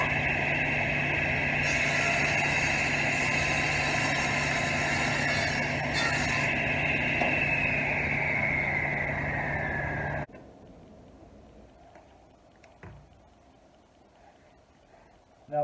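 A table saw fitted with a sled whines steadily and loudly for about ten seconds while trimming a board's edge square, then cuts off abruptly and winds down, leaving faint shop noises and a brief knock.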